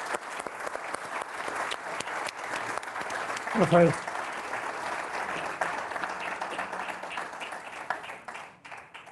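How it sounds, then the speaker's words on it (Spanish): Applause from a conference session audience, a dense steady patter of many hands clapping throughout, with someone speaking briefly partway through and the clapping thinning near the end. "Bueno, un aplauso."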